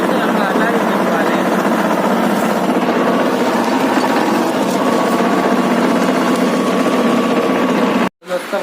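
A tractor pulling a rotavator through a farm field runs with a loud, continuous rough engine roar that cuts out abruptly near the end, and someone talks over the noise.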